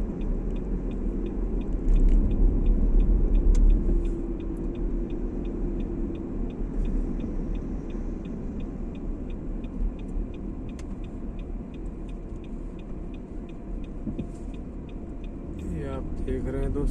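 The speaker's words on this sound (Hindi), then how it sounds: "इक्की दुक्की गाड़ी दोस्तों चल रही है" Light traffic on a road in Riyadh, Saudi Arabia: a steady low rumble of passing cars with a brief louder swell, heard from a moving vehicle with faint voices.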